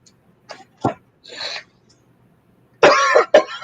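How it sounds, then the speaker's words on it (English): Several close, harsh coughs in a person with a nasty cough, short bursts spaced out, ending with two louder hacking coughs in quick succession. "I got that nasty cough."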